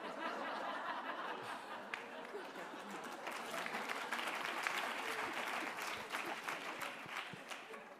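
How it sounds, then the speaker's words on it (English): Audience applause and some laughter fill a room at a live news discussion session, steady and sustained for several seconds. "My grandmother will love that that's the line that you guys applauded"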